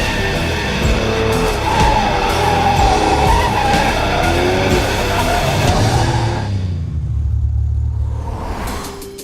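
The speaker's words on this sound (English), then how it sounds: "this is the all-new 2016 Ford Focus RS" A 2016 Ford Focus RS, an all-wheel-drive hot hatch, skids with loud squealing tires and a droning engine, close and sustained for several seconds before the tire noise suddenly drops away to a lower rumble.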